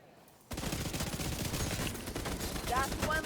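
Automated turrets firing in a video game open abruptly after a short quiet moment, then keep up a steady, fast, loud stream of shots, with faint whistling effects near the end.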